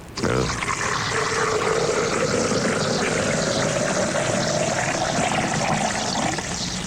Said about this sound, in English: Let me get my bone dry poured here, just so I have it icy cold when Blessed Relief time rolls around.